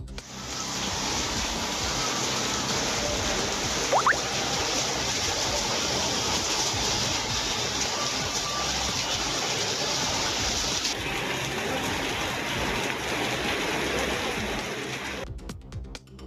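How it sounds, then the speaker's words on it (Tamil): Heavy rain driven by strong wind in Rameswaram, a steady dense broadband wash that stays loud and unbroken for about fifteen seconds before cutting off abruptly. "ராமேஸ்வரத்தில் பலத்த காற்றுடன் கனமழை பெய்தது"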